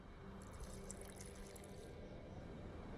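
Water pours and trickles steadily for about two seconds in The Witcher 2 video game, a soft, continuous splashing like liquid filling a vessel, fading out toward the end with no voices.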